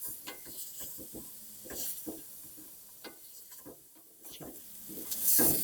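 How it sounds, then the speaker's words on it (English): Onion sizzles with a little salt in a hot pan, steady frying hiss broken by repeated scraping stirs, ending in a louder burst of sizzle. "we're gonna add the onion. And we're gonna get that cooking with a little bit of salt."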